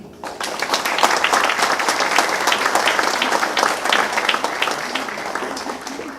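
Audience applause at a book presentation for "Escalando la vida": a full, steady round of many hands clapping, fairly loud and continuous throughout, with no talk over it.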